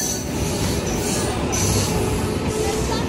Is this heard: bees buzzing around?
no